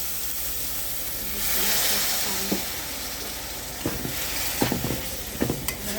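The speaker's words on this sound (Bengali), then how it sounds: "দিয়ে দিলাম একটু ধনে গুঁড়ো, দিয়ে মশলাটাকে আমি কষাই নিচ্ছি।" Spices with chili paste and coriander powder are stir-fried in a pan. A constant loud sizzle runs throughout, broken by a swell of steam and several scraping knocks of a spoon against the pan.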